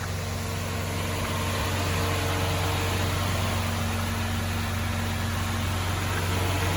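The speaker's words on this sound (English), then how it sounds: "It's a smooth sounding V6" A 2019 Buick Enclave Avenir's V6 idles steadily with a smooth, even low hum and constant drone, heard up close without pauses or revving and with no one speaking.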